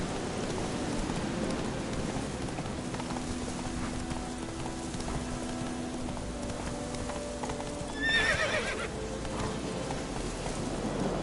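Geralt's horse Roach in The Witcher 3 walking with steady rhythmic clip-clopping hooves close by, then a short neigh near the end, with faint insect buzzing around and no talk.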